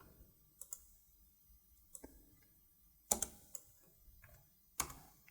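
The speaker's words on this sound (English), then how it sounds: "I'm going to click and drag, hit the spacebar, enter 27." Mouse clicks and keyboard keypresses while working in DesignSpark Mechanical CAD software: a handful of sparse, quiet clicks spread over a few seconds, with a couple of sharper, louder taps standing out near the end, close and without speech.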